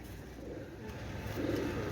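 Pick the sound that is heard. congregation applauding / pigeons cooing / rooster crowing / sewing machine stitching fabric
pigeons cooing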